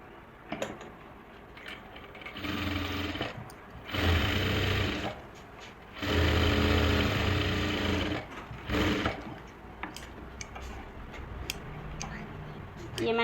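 A sewing machine stitches a lined suit during a tailoring lesson, running in several bursts of a few seconds each with pauses between, close and fairly loud, with faint speech and handling noise in the gaps.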